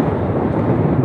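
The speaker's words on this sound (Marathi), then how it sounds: "भरपूर वारं सुटले." Strong wind buffets a rider on a Honda Unicorn 150 motorcycle on the NH52 highway, a loud, continuous, low rushing roar at close range.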